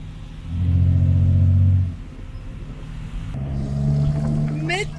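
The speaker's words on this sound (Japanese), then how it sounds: "初トゥクトゥクに乗って BTS の駅まで向かっていきます。" A tuk-tuk carries passengers through jammed Bangkok traffic, its engine giving a loud revving burst early on, then settling into a rougher, lower rumble with a rising whine near the end.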